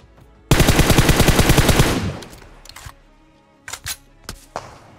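Automatic rifle fire in PUBG Mobile, a loud rapid burst of about a dozen close shots lasting over a second, followed by a few scattered sharp shots and clicks.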